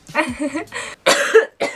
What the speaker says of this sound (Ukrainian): горло боліло, і я кашляю